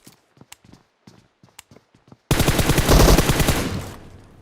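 Rapid automatic gunfire in a shooting video game bursts in loud and dense after a run of sparse footsteps and clicks, then holds as a sustained barrage.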